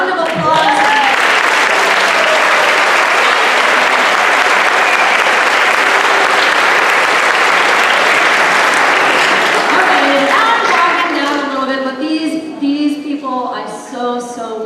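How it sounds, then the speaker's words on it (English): Audience applause at a school spring concert fills most of the clip as a dense, steady clapping, then thins out near the end as a voice begins to speak. "So please, a round of applause."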